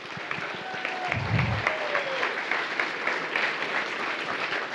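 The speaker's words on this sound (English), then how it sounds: "can everybody give CBM a big round of applause for measuring the bucks tonight?" A crowd at a Big Buck Night gathering gives a sustained round of applause, with steady dense clapping at moderate distance and a brief low thump early on.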